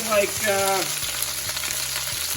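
Broccoli from four heads hitting a hot pan, setting off a loud, close burst of sizzling that then settles into a steady frying hiss.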